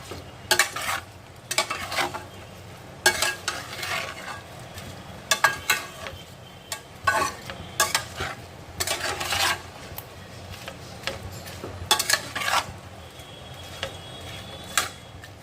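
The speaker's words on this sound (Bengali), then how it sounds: "টোটাল যে মশলাটা আছে সেটা কিন্তু আমি ভালো করে কিন্তু আগে মাখিয়ে নিচ্ছি" Mutton being worked by hand with spices in a pot, giving wet squelching and scraping stirs in irregular bursts, close up, with no talking.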